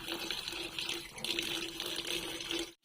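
Tap water runs steadily at the sink while dried shrimp are rinsed, a fairly quiet continuous splashing flow that cuts off abruptly at the end. No one speaks.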